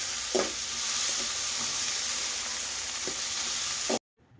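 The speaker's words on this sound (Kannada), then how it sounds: "ಎಲ್ಲ ಹಾಕ್ಕೊಂಡು ಚೆನ್ನಾಗಿ ಫ್ರೈ ಮಾಡ್ಕೋಬೇಕು" Spices and vegetables sizzle steadily in a frying pan, a close, continuous hiss broken by a few soft stirring scrapes, then cutting off abruptly near the end.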